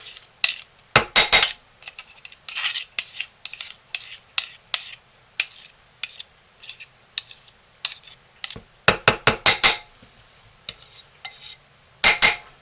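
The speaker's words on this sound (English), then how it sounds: "Now we're going to take the lid off of our crock pot and stir our soap" A spoon stirring homemade soap in a crock pot, with irregular bursts of metallic scraping and clinking against the sides, some quick flurries and pauses of silence between them.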